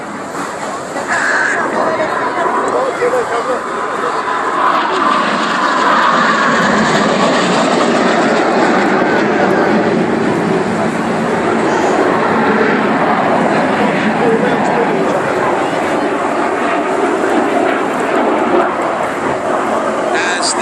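Jet roar from the RAF Red Arrows display team at the 2013 Clacton-on-Sea air show, a steady broad rushing sound that holds throughout, heard outdoors alongside commentary over the public address.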